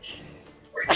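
A sudden loud sneeze bursts out at the end of a tabletop role-playing session, after a short quiet stretch of faint room noise.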